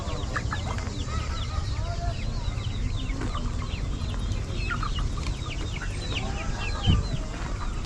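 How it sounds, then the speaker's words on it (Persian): Chickens and a rooster at a busy summer Thursday market in Kelachay, Gilan, northern Iran, clucking and calling among steady crowd chatter, with a short louder burst near the end. "اون خروس چی؟"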